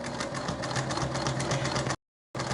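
A sewing machine stitches free motion applique flowers onto a crossbody bag, a fast steady mechanical whir with a rapid needle rhythm, close by, briefly stopping before starting again.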